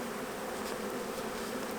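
A honeybee trapped inside a beekeeper's veil gives a steady, close, insistent buzz that holds without break, with no voices.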